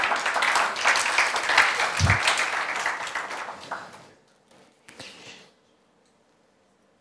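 A church congregation claps together in a dense, sustained round of applause that fades out after about four seconds, leaving a few scattered claps before silence.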